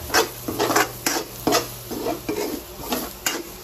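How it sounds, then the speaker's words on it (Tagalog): Curry powder being sautéed in a pan for shrimp curry, with a soft steady sizzle under repeated close scraping and stirring strokes of a utensil against the pan, alone without any speech. "Igisa din natin yung ating tinatawag na curry powder"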